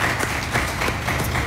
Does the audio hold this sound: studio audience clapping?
yes